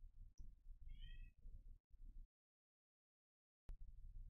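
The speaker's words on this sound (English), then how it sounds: "Also, I have my cat here" A pet cat lets out a short meow, then a longer wavering one, close to the microphone over low rumbling background noise, followed by a stretch of silence.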